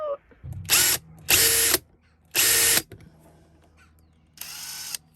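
Power drill whirring in four short bursts of under a second each, loud and close, separated by near silence, during van mould repair work.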